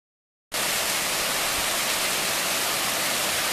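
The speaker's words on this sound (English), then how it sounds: "Here's our next encounter with Mill Prong Creek." Mill Prong Creek in Shenandoah National Park rushes in a dense, steady hiss of flowing water that cuts in suddenly after a brief silence and then holds constant and close; no voices are heard.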